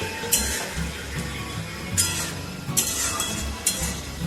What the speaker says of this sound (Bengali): আবার একটু নাড়িয়ে দেখে নেবো পেঁয়াজটা লাল লাল হয়েছে কিনা